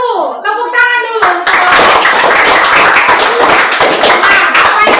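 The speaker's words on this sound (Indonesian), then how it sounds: "Tepuk tangan dulu." A classroom of students clapping together on a teacher's cue, loud dense applause that starts after brief speech and continues steadily to the end.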